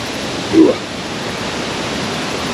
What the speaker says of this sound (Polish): Tutaj spływa rzeka.